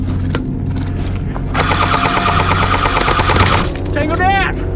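An airsoft M1919 machine gun fires one loud, rapid burst of evenly spaced shots lasting about two seconds, set against steady background noise during a game in an abandoned hospital.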